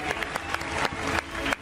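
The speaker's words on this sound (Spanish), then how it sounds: "Fuerte el aplauso" A studio audience on a talk show applauds on cue, a moderate, continuous burst of clapping from a crowd with a few sharper accents along the way.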